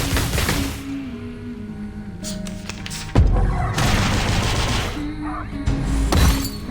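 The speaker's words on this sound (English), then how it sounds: "Aim and shoot." Gunfire in the video game Reverse 1999: booming, crackling shots and volleys burst over a humming in-game background, with a sharp hit near the middle and more blasts following.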